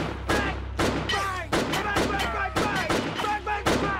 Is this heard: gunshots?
yes